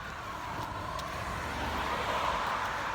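Road traffic rushes past in a steady, broad rumble of cars, a continuous wash of tire and engine noise swelling slightly toward the end.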